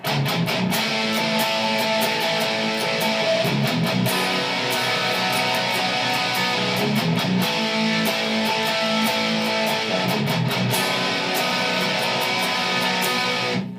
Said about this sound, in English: Okay, then we get to the bridge, which sounds something like this